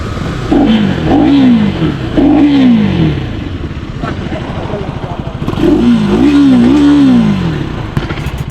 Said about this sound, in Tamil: வண்டியோட எக்ஸாஸ்ட் சவுண்டு